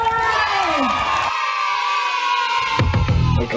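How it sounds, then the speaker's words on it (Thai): An outdoor crowd cheers and shouts for traditional Thai dancers who performed without music, voices whooping over a bright tonal din before a brief drop and a burst of clattering noise. "ขอเสียงปรบมือให้บ้าน้วย"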